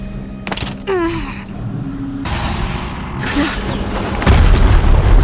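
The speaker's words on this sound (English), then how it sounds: "another explosion." Explosions and mechanical clanks in the video game Horizon Zero Dawn, with whirring servo tones and a heavy deep boom swelling near the end, loud and close.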